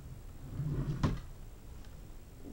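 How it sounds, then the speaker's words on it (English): A drawer is slid open and shut: one short, sharp clunk in the middle rises above a low, steady background rumble, with no talking. "we're gonna try the opening drawer thing again"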